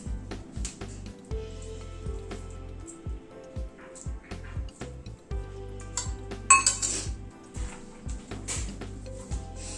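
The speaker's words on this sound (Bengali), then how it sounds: "বিটটাকে প্রথমে স্ম্যাশ করে নিচ্ছি।" Boiled beetroot being smashed in a bowl for beetroot prawn chops, giving close, uneven knocks and clinks of a utensil against the dish, with short pauses between bursts and one louder clatter near the end.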